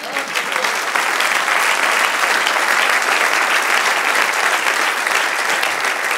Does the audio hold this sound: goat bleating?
no